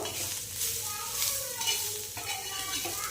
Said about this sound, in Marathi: कांदा भाजू द्यायचा आहे चांगला.